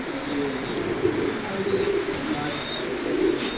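Racing pigeons at a seller's loft coo in a low, steady murmur with occasional chirps, a continuous moderate-level flock sound with no talk.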